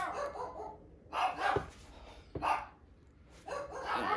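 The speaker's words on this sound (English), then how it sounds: "I'm about to freaking go take care of these dogs in a minute." Dogs barking indoors in short bursts, about three or four loud barks spaced between quieter gaps, with no talking over them.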